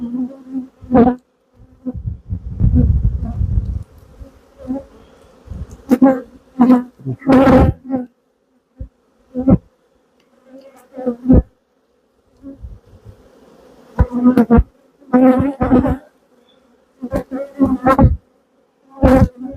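Honey bees swarm around an open hive frame heavy with nectar and honey, their close, loud buzzing rising and falling in repeated bursts with brief quieter gaps between.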